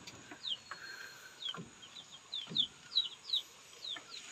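Turkeys at an egg-laying nest give short, high chirping calls and soft clucks at irregular intervals, fairly faint against a quiet background, with no talk.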